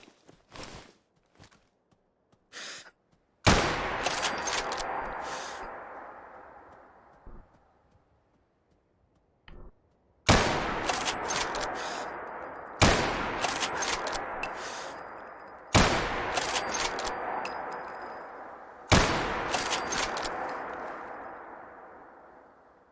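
A .308 rifle in Fallout 4 fires five loud, sharp shots, each with a long decaying echo, spaced a few seconds apart after quiet clicks and small handling sounds.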